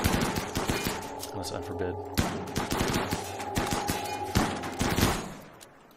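Colonists' gunfire in the colony-building game RimWorld, rapid bursts of close, loud shots layered into a busy volley that fades out at the end, with brief talk over it.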